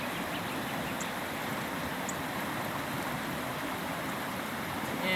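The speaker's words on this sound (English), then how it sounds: "if you have running water" Running water flows steadily in a rustic outdoor washing spot, a constant, even rushing hiss that stays close and unbroken from start to finish.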